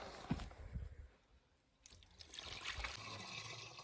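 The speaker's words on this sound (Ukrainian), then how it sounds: "Так, та лємо з відра." Warm water poured from a bucket into a garden spray mix, trickling and splashing in short bursts, a quieter pause, then a steadier gush of liquid, close and fairly soft.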